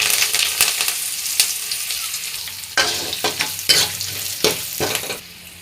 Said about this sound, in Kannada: ಎಣ್ಣೆ ಕಾದಿದೆ. ಈಗ ಒಗ್ಗರಣೆ ಹಾಕ್ಕೊಳ್ತಾ ಇದ್ದೀನಿ.